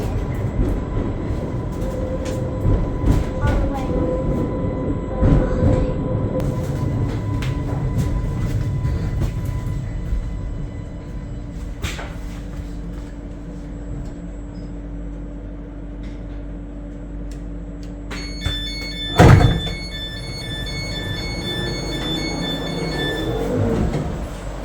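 An Isle of Wight train pulling into Shanklin station, a steady low rumble of wheels on rails with clanks and a brief squeal, recorded from on board, loud and continuous.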